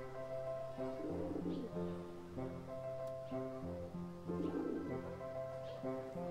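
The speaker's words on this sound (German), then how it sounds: "Weil das sind ja eindeutig Tauben, die hier rumfliegen." Pigeons coo in the video game Wytchwood, with soft, low, repeated calls that rise and fall in a steady rhythm over a constant layer of ambient game sound.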